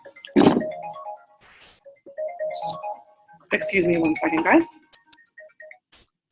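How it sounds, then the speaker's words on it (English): An incoming phone call's ringtone chimes in repeated tonal bursts during an online chemistry tutoring session on unit conversions, interrupted by someone speaking close to the microphone. "I'm getting a phone call."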